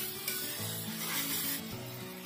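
Tomato and masala fry in oil in a pan, a soft close sizzle with light scraping and stirring textures over a low background hum, no voices.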